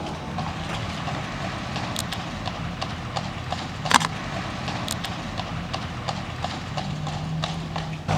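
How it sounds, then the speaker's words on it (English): A horse's hooves clip-clop steadily along a street, an even walking rhythm of sharp knocks over constant traffic and city hum, heard alone without talk. "Oh shit, a horse."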